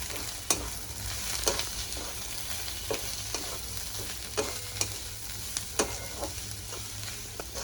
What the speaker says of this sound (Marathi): आता आपण हे परतून घेऊया।